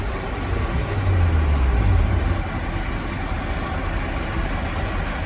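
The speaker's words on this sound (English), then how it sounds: "So I will pull my truck in low gear." A truck engine runs steadily in low gear during an in-cab brake test, a low rumbling drone that swells slightly in the first couple of seconds and then holds even, with no talk.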